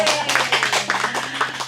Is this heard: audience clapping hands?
yes